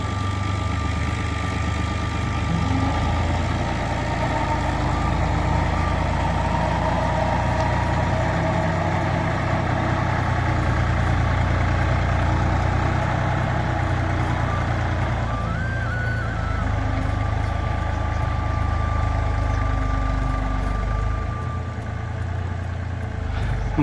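A Fiat 480 tractor idles while hitched to a trolley for loading, its engine giving a steady, continuous low rumble that holds close and even throughout, with no talking.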